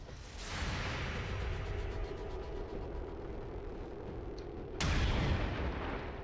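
A sniper rifle shot in XCOM 2 War of the Chosen, loud with a long rolling rumble, then a second sharp, booming blast near the end.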